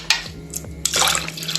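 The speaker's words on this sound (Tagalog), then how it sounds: "Para maglagay ako ng half cup pa ng tubig dito sa aking" Water is poured into a blender in short splashing bursts, close and fairly loud, with a faint steady hum beneath and no talk.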